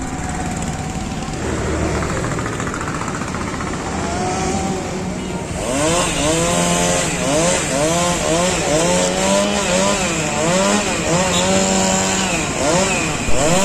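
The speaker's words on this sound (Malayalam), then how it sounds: "ചീനിമരം ആദ്യം വെട്ടുകയാണ്" A chainsaw cuts down a Cheeni tree during roadside clearing in Malappuram, first idling, then revving loud and close in rising and falling surges as the blade bites repeatedly.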